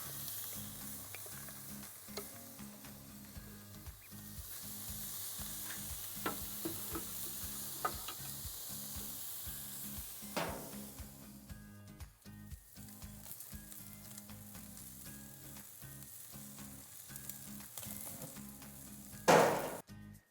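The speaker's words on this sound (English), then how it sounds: "Listen to that sizzle." Meat searing on a clean grill, a loud, steady sizzle with crackling spits and occasional sharper pops over about twenty seconds, close and alone with no voices.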